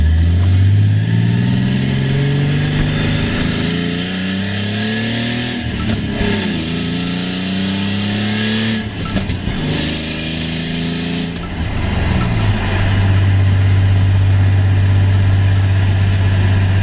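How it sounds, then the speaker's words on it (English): A Nissan Z revs hard through the gears while cruising, engine note climbing and dropping at each shift, with sharp backfire pops at the gear changes before settling into a steady idle-like drone. "Another backfire there, top of second gear when I shifted."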